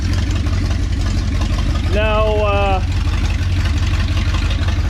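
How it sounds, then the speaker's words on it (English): A 1972 Challenger engine idles steadily and loudly, its broken exhaust clicking and clattering throughout, while someone speaks briefly over it. "The one exhaust is clearly broken, so it's clicking and clattering like crazy."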